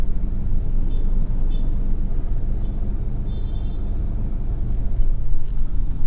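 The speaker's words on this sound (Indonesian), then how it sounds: "bisa vlogging dalam mobil karena macet banget ya" Inside a car crawling through a heavy traffic jam, a steady low engine and road rumble fills the cabin, with faint distant traffic noise in the background.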